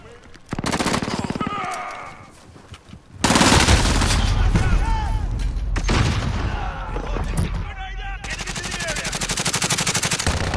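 Oden rifle fire in Call of Duty Modern Warfare, loud close bursts of rapid shots that stop and restart after a short quiet gap, with other gunfire and effects layered in and a voice speaking briefly.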